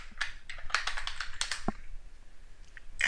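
Someone types on a computer keyboard, a short burst of quick close keystrokes ending in a firmer key press, followed by quiet.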